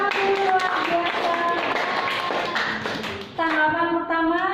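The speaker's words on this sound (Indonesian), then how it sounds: "Tepuk tangan dulu, luar biasa." A classroom of students claps hands in a ragged burst while voices and singing-like tones carry over the clapping, fairly close throughout.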